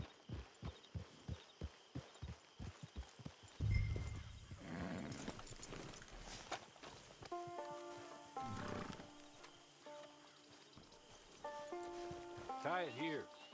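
Horse hooves clip-clop in Red Dead Redemption 2, a quick, even run of hoofbeats at the start before the horse slows, then a whinny, game music and character talk follow.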